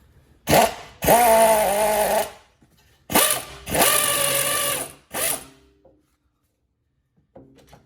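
A power tool spins off a brake caliper bracket bolt on a Jeep Grand Cherokee, whirring in several loud close bursts of uneven length separated by short silences, then fading to quiet handling.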